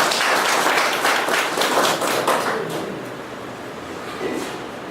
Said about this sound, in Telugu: ఒక్కసారి చప్పట్లతో భూపాల్ని అభినందిద్దాం